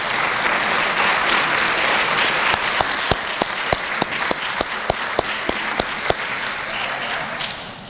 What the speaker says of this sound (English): I think let's give your parents a round of applause.